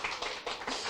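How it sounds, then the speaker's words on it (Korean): A church congregation at a Christmas service applauds the worship team, a brief, fairly faint patter of clapping that swells in uneven bursts. "우리 다시 한번 찬양팀 향해서 한번 박수 한번 쳐봤으면 좋겠어요."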